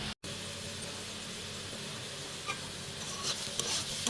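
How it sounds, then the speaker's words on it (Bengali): Potatoes frying with panch phoron in a pan give a steady close sizzle, with brief stirring scrapes near the end and a momentary dropout early on. "হালকা সুন্দর করে নাড়াতে দিয়ে আবার ঢেকে রেখে দেবো"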